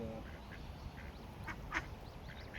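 Ducks quacking near a pond where a mute swan family swims, several short quacks repeating at a moderate distance over steady outdoor background noise.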